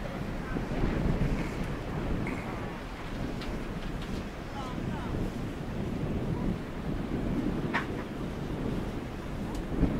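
Wind buffets a catamaran out at sea in warm weather, a steady roaring rush over surf and water noise that runs continuously throughout, with voices talking faintly underneath.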